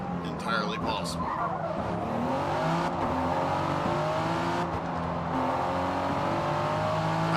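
A Ford races in the Forza driving game, its engine revving and rising through gears with tire squeal and skidding, loud and continuous while someone talks over it.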